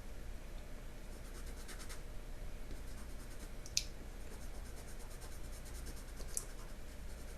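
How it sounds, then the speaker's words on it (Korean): Soft pastel scratches across cotton-rich pastel paper in quiet, steady strokes, producing a dry continuous rasp with a few sharper scrapes standing out. "아, 종이 긁힐 때 나는 소리."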